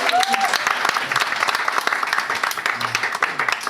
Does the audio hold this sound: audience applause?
yes